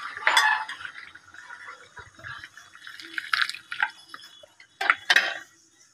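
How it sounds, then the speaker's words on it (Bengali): Potato curry broth is poured into a dish with a soft liquid splash, along with clinking utensils and scraping against cookware in short bursts. "এবার আলু দেওয়া ঝোলটা তুলে মধ্যে ঢেলে দেবো।"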